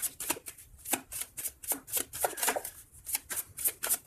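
Tarot cards being shuffled by hand, a close quick series of riffling, papery bursts in an uneven rhythm, alone without talk.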